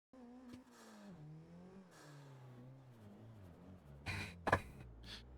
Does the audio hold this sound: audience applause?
no